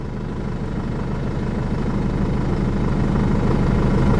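A Jeep engine idling steadily just after starting up, a continuous low rumble that holds even and close with no talk over it.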